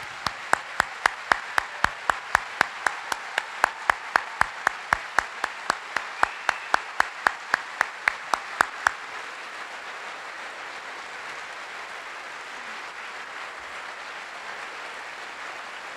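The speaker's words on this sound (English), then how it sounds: "please give them a round of applause" Audience applause for standing veterans at a Holocaust rail car event at a Jewish community center: a steady wash of crowd clapping with sharp, evenly spaced loud claps for about nine seconds, then a quieter lingering murmur.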